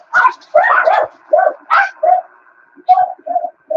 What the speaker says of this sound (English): you can hear the dog. They know a net is finishing, and they're all barking at the back door